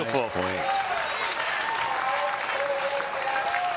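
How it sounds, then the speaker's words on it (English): Crowd at a US Open pickleball championship match applauding and cheering, a broad, sustained roar of clapping and yells, with a voice briefly heard at the start before the applause carries on steadily. "The crowd raising their hands, giving out a yell."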